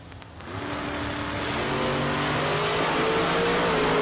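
A drag racing car at a Texas Motorplex bracket race roars off the line, its engine rising into a loud sustained revving howl that climbs in pitch as it accelerates away.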